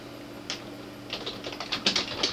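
Fingers type a folder name on a computer keyboard in a quiet room, a single key tap followed by a quick run of close, crisp keystrokes.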